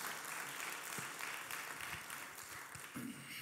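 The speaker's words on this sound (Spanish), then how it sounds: "Démosle un aplauso al Señor, hermano." A church congregation applauding during a Spanish-language service, a soft, steady, distant patter of many hands clapping with no voice over it.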